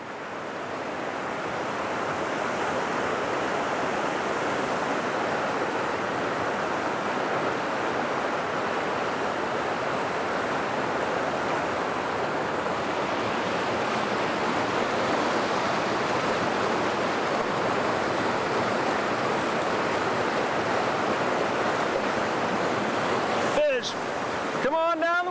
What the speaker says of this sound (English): Come on down the waterfall here.